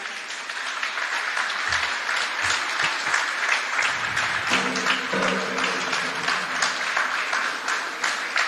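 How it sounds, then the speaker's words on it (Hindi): Sustained audience applause in a hall, dense rapid clapping throughout with a few low thumps and a brief tonal murmur partway through. "ये शोभा की तालियां जो है ना वो इतनी ज्यादा हो रही हैं कि आप लोगों को बजाना ही पड़ेगा।"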